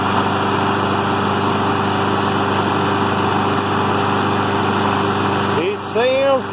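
Lawn mower engine running steadily and idling a little high after being repaired and refueled, a constant close drone that dips and shifts briefly near the end.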